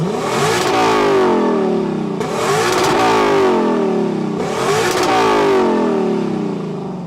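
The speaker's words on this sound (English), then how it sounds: "Let's take a listen to the exhaust sound of the 2023 Lexus LC 500." A 2023 Lexus LC 500 with a naturally aspirated 5-liter V8 rising through three loud, close revs in a row, the exhaust note climbing in pitch with each pull before dropping back, with no talking.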